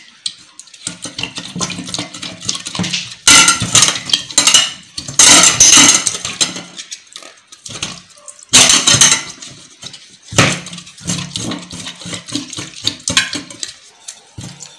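Spark plugs are swished and scrubbed in a container of petrol, giving loud bursts of splashing and sloshing liquid with softer clinking handling sounds between them, close up.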